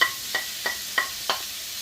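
Onions with tomato and green chili frying in a pan, a steady soft sizzle broken by four evenly spaced scraping stirs of a spoon, close and fairly clear.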